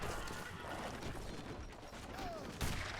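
Cannon fire in a strategy video game, with great bombards and light cannons exchanging shots, heard as a dense, continuous barrage of booms and crashes with a sharper blast near the end.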